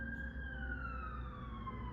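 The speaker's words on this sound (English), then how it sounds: "no, that's a fire truck" A fire truck siren wails from a distance, a steady tone sliding slowly downward over a low hum of background noise, with no voices.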